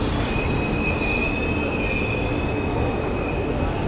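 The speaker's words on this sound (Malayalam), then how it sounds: "അപ്പോൾ നമ്മുടെ ട്രെയിൻ എത്തി." Amritha Express pulling into a station platform, its wheels giving a steady, loud high-pitched squeal with several sustained tones over continuous rumbling rail noise, no voices.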